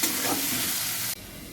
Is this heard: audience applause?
no